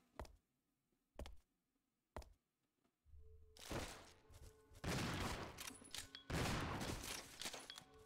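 Heavy shotgun blasts in Resident Evil Zero HD aimed at a large bat: several sharp isolated shots early on, then louder, denser booming and impact noise.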